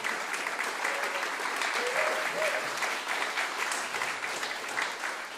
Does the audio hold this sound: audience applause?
yes